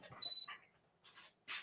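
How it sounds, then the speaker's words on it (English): Brief electronic beep from a machine in a room, a single high, clear tone followed by faint scattered clicks and rustles, fairly quiet and with no speech. "What in the world is beeping?"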